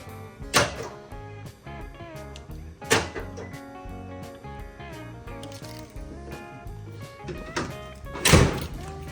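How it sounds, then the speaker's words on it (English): Doors of a Toyota Tacoma shut in turn, three or four solid thunks spaced a few seconds apart, close and fairly loud over a quiet background. "Should probably close the doors real quick."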